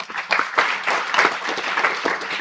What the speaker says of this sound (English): And a round of applause for all those who asked questions.